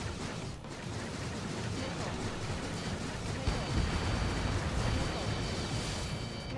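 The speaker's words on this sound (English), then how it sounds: "We got rail guns coming in, exploding." Rail gun shells exploding in the combat flight game Ace Combat 7, a continuous dense rumble of blasts and low booms that swells slightly toward the end, with no distinct separate hits.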